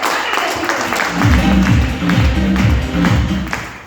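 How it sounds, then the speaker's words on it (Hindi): An audience at an AWPL venue closing event claps loudly, the applause swelling in rhythmic bursts with voices mixed in. "उसके लिए एक शानदार दमदार ताली होनी चाहिए"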